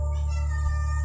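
A cat meows once, close by, at an abandoned resort, over a steady low mechanical hum.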